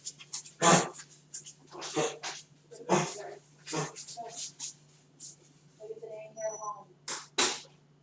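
Dogs whimpering and panting, with breathy bursts and sniffs in irregular rhythm, close and moderately loud, plus a few high whines near the end.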